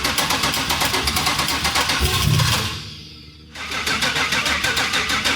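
A Gen 3 Coyote V8 swapped into a New Edge Mustang Cobra cranks loudly without catching, the starter churning in a steady rhythmic grind before it cuts out briefly and resumes.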